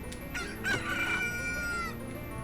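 The owl Kaepora Gaebora calls in Ocarina of Time, a hooting, honking, squawk-like game sound with a few tonal swoops and cries over a low hum and background music, heard alone without talk.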